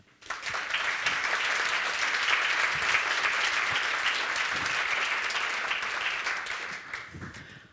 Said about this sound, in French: je pense que vous pouvez vraiment les applaudir